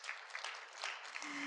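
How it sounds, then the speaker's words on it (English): A brief, faint patter of audience applause for a hometown honoree at a mayors' MLK breakfast, heard from a distance as a soft, even wash of claps. "Give him a round of applause."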